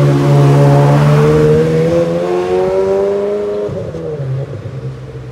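A Ferrari 360 Modena Spider revs loudly nearby, its engine tone rising and holding strong before easing off and fading slightly as the car moves away on a street.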